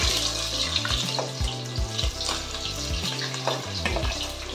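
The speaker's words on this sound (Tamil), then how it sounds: "இதை அப்படியே ஃபுல்லாகவே போட்டு நல்லா வெங்காயம் வதங்கணும்" Sliced onions frying in oil for a coconut milk crab gravy, a bright crackling sizzle with scattered pops and stirring scrapes, heard close over a low hum, no talking.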